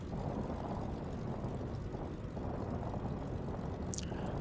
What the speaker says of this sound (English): And you can hear the wheels on the runway.